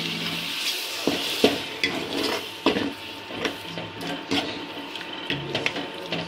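Masala being stirred in a cooking pot for a soybean curry made with mutton stock, giving repeated close scraping and clinking strokes over a soft simmering sizzle. No one speaks.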